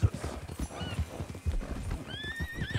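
Horse hooves clip-clop on the ground in the Red Dead Online video game, a steady close rhythm of hoofbeats with a horse whinnying partway through.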